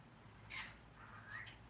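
A pet bird makes two short raspy, squawky vocalizations about a second apart, fairly close and faint over quiet room hum, with no people speaking.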